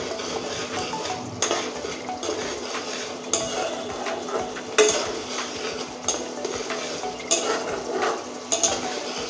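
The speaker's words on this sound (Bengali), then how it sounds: "এবার সুন্দরভাবে মশলাটা কষতে থাকবো।" A spoon scrapes and knocks against a pan while spice paste for a Bengali rohu fish curry with coconut paste fries in oil, a continuous sizzle broken by regular sharp metallic clinks, with no voices.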